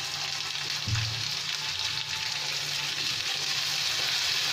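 Turmeric powder and salt stirred in a frying pan, a steady broadband sizzle with a brief scraping stir near the start, close and continuous with no talking.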